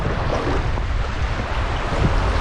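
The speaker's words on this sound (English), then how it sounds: "The wind's really come up." Strong wind gusting across an open backcountry airstrip in alder country, a loud steady roar buffeting the microphone with no break.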